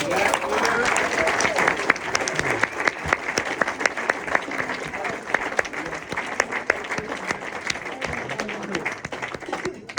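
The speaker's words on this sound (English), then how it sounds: "give them a big round of applause" A room of members applauds at a golf club captain's speech at Shirley Golf Club, steady close clapping filling the whole stretch, with a few voices mixed into the crowd.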